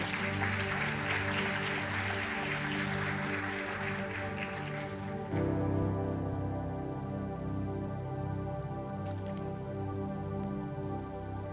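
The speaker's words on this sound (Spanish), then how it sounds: "¿Por qué no le damos un fuerte aplauso a Jesús en esta tarde?" A church congregation claps and cheers loudly over sustained music during a Spanish-language service; the applause fades out about halfway through while the music carries on alone.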